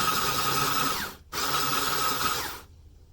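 An electric whisk churns a coffee and sugar scrub mixture in two steady buzzing bursts separated by a short pause, ending abruptly, close and fairly loud.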